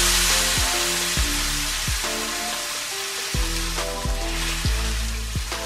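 Steak searing loudly in a hot pan of avocado oil over high heat, a constant close hiss with repeated sharp clanks and thumps of the pan and meat roughly every half second to a second.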